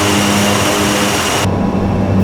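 Steady, loud drone of an ATR 72-600 turboprop airliner on approach to Belfast City in Microsoft Flight Simulator, with a constant engine and propeller tone that turns duller partway through.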